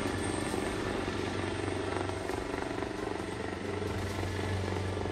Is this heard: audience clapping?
no